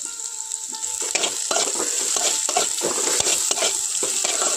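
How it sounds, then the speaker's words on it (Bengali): Onion, ginger and garlic frying in a pan for a Bengali-style kundri dish give a loud, steady sizzle throughout, with scraping stirring strokes on top and no talking. "খুব ভালোভাবে পেঁয়াজ আটা রসুনটা ভেজে নিয়েছি"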